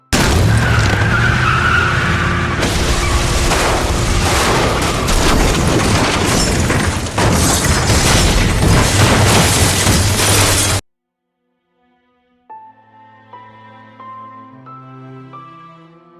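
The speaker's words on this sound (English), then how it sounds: "the car crashes into the plot" A car crash in The Walking Dead video game: a long, loud stretch of skidding tires and rumbling impact noise, then a sudden cut to silence before soft, low musical tones fade in.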